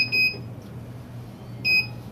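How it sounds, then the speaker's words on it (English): Two short high electronic beeps from a rocket tilt-sensor's ignition continuity indicator, one near the start and one near the end, separated by a quiet pause over a low background hum. "the rocket tiltometer goes to a single beep"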